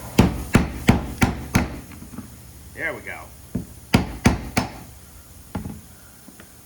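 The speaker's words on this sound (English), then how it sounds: "took a few more hammer blows, but we got that locker off" Sharp metallic hammer blows ring out in quick bursts on a rusted fuel pump lock ring of a Chevy Avalanche gas tank, about a dozen strikes with pauses between, and a short spoken remark in the middle.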